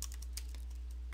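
Keys clacking on a computer keyboard while writing C# code, a short burst of close, scattered taps heard alone.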